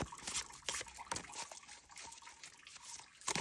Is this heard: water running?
yes